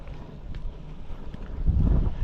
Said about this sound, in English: And it is bloody windy.